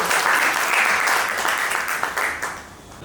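A crowd claps together in a dense, even wash of applause that stays fairly loud before easing slightly toward the end.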